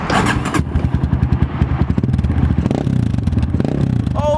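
A motorcycle with its exhaust baffle removed idles loud and close, a raw, throbbing exhaust beat that rises slightly as it revs, with a little mechanical clatter.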